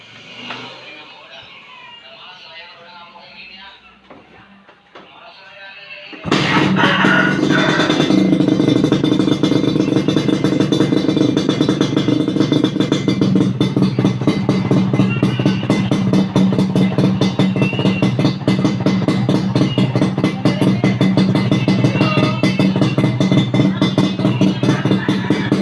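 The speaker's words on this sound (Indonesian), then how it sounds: "knalpot dari Bang Purwanto Malang, knalpot brake Satria 2 tak." Suzuki Satria two-stroke motorcycle fitted with an aftermarket exhaust, quiet at first, then starting and revving loudly and continuously up close with a dense, raspy buzz for about twenty seconds.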